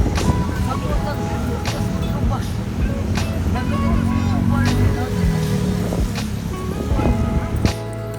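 Road traffic around a taxi stuck in heavy congestion in town near Ayala, a steady dense rumble of engines with faint horns and clanks, continuous and fairly loud throughout.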